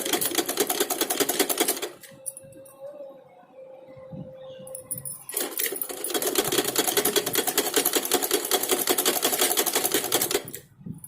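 A sewing machine runs in fast, steady rattling bursts while stitching a blouse neckline, pausing briefly in the middle with a faint hum and small handling noises before stitching resumes to the end.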